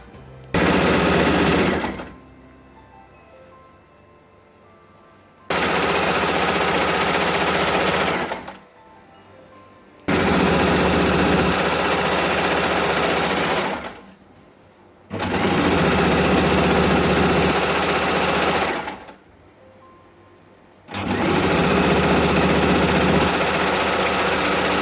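A sewing machine stitches down the pleats of a pleated top in four loud, sustained runs of several seconds each, separated by brief near-silent pauses, with no voices over it.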